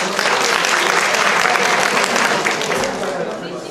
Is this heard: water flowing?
no